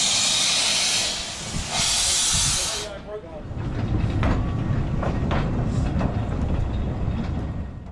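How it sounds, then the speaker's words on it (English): Heritage steam train pulling away from Pendre station toward Tywyn, opening with loud hissing steam bursts, then rumbling chuffs and rail clatter as it moves off, fairly close throughout. "we watched the train pull away back to Tywyn"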